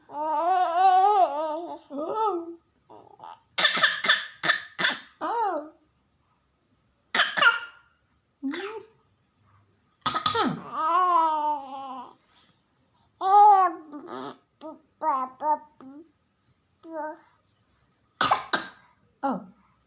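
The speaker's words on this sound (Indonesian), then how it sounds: "Oh, batuk beneran." A young child coughs in short bursts between babbling and vocal sounds, close and fairly loud, with pauses of silence between the bursts.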